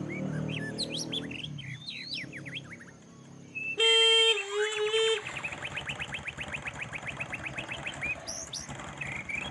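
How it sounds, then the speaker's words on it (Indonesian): A motorcycle horn wired to a replacement battery pack built from used cells blares loud and close for a little over a second. Birds chirp before it, and a rhythmic mechanical pulsing follows. "Sekarang kita tes sambil mengklakson, nyala sen sambil starter Mbak"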